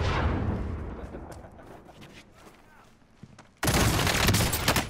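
Gunfire in a multiplayer shooter match, a loud sudden burst of rapid automatic shots breaking in near the end after quieter stretches of scattered distant shooting and game noise.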